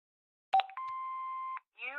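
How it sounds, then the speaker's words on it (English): A telephone answering machine in the Broken Sword 5 video game gives a short clicking start, then a long, clean, steady electronic beep lasting under a second before cutting off, heard alone in silence. "Hobbs's answer phone, and he's got messages."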